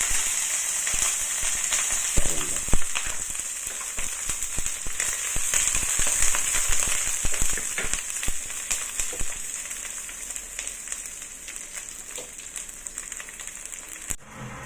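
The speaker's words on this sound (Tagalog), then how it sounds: "At ilagay na natin ang ingredients natin kasi mainit na yung mantika." Pork adobo ingredients frying in hot oil, a steady close sizzle with crackling pops and spatters throughout, loud and continuous with no talking.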